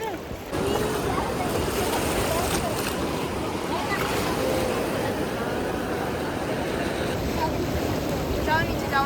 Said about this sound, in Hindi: और नदी इतनी खतरनाक आ रही है पैरों में